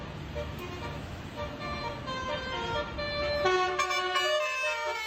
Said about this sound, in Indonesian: salah satu sopir bus yang berada di depan mulai memainkan klakson teloletnya